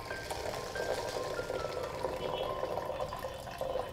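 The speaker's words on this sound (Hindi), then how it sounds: "अभी इसके अंदर हम पानी डाल देंगे।" Water poured into a bottle of fenugreek (methi) seeds being soaked for sprouting, a steady continuous pouring and filling sound held for several seconds at close range.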